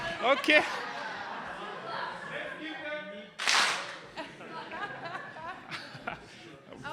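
A short burst of audience clapping at a Washington DC learning event on joint planning and implementation rises briefly mid-clip amid chatter, laughter and ongoing talk in a conference room.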